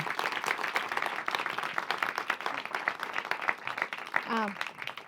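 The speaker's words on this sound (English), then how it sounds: "I hope you can hear that applause." Audience at a BAFTA screenwriters' lecture applauds steadily after the talk, continuous close clapping with a voice briefly rising above it near the end.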